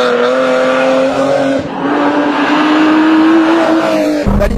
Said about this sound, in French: là on met plein pot, on sort fort.